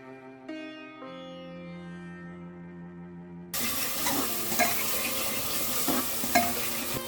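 Onions fry in about three tablespoons of hot oil in a pot for chicken korma, a steady close sizzle with a few stirring knocks, starting after a short burst of music.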